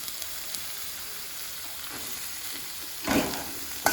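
Chopped onion sautés in a pan with ginger and green chili for Kerala pappada ada, a steady soft sizzle under a few louder stirring scrapes near the end, with no talking.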